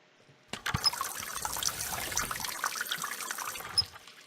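Water trickles and drips from a wet rag wrung out in The Raven video game, a soft, close splashing that starts abruptly and runs for a few seconds before ending with a last small splash.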